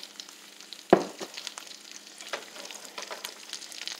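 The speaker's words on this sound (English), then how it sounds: "I have it on a low heat. I have it on 5. And we're just going to saute it a little bit." A stuffing of spaghetti sauce, rice and corn sizzles gently in a pan over low heat, with one sharp clatter of a utensil near the start and a soft, steady frying hiss after it.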